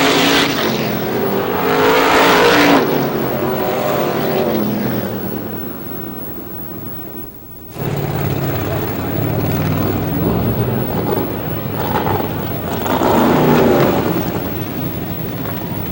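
Super-modified race cars roar around Star Speedway in New Hampshire, engines loud and close in a continuous drone with passing surges near the start and the end, interrupted briefly by a short dip in the middle.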